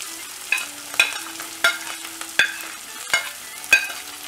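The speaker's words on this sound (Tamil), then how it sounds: "வெங்காயம் ஆட் பண்ணிவிட்டு இது நல்லா ஃப்ரை பண்ணிடலாம்" Chopped onions fry in oil with roasted chana dal and urad dal for kuzhi paniyaram, a soft sizzle broken by regular stirring scrapes about every two-thirds of a second, close by over a low steady hum.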